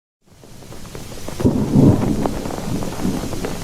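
Stormy weather effect of thunder with rain: a rumbling roll swells in from silence, peaks in a heavy crash, then carries on as a steady wash of rain and distant rumble, loud and without voices.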